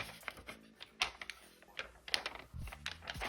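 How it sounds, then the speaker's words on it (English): Thin printed scrapbooking paper pages are handled and rustled up close, quiet crisp crinkles and taps in irregular bursts with no talking. "You can also hear how thin and see how thin this paper is."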